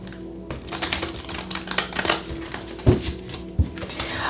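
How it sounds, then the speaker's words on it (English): Tarot cards are shuffled close by in a quick run of soft riffling and tapping clicks, with a couple of louder knocks near the end. "One more shuffle."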